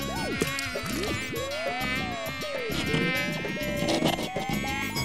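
A cartoon mosquito buzzes in a high, whining drone that rises and swoops in pitch over busy animated background sound and effects, with several sweeping glides across a few seconds.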